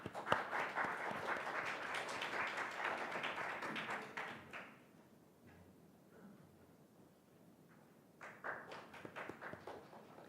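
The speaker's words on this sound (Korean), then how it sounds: "최소희 학생의 연설 박수로 맞아주십시오" Applause welcoming a student speaker at a youth speech contest, a dense patter of clapping for about four seconds that fades, then a brief second burst near the end.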